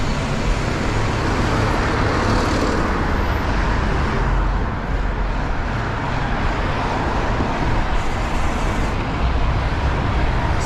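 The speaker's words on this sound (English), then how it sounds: "Watch the oncoming traffic." Constant roar of road traffic passing close by, heard from a bicycle on a city street, dense broadband rumble with wind noise and no clear breaks.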